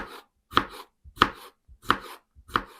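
Four evenly spaced knife chops through pickled cucumbers on a cutting board, crisp and close, each a sharp thud with a brief pause between.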